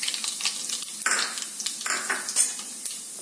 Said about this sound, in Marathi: आता ह्याच्यात मी पहिल्यांदा टाकते जिरे आणि मोहरीची फोडणी देतोय अगोदर आपण